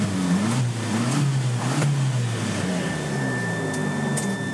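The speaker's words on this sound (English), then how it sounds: "And have a listen at the engine." A 1997 Subaru Sambar, a Japanese import, with its engine running steadily at idle and rising slightly in pitch at moments; a high, steady door-open warning tone sounds over it, with no talking.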